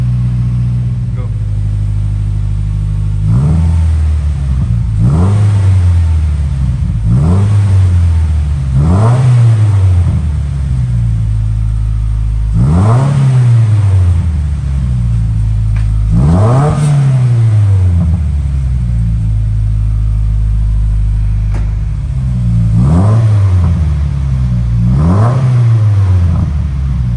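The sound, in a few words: Subaru WRX with Tomei exhaust revving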